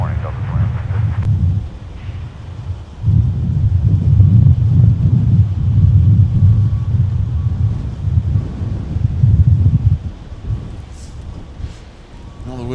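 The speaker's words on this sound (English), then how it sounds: "the wind's starting to get a little bit more annoying here" Wind buffets a microphone at Minneapolis–Saint Paul airport in winter, a loud low rumbling roar that swells and eases in gusts, with radio voices over it.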